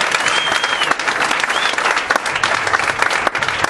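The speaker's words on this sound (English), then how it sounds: "You guys really know how to clap it up for a guy you've never heard of before" Comedy club crowd in Philadelphia applauding a comedian walking on stage, loud, dense clapping with cheers and whistles throughout.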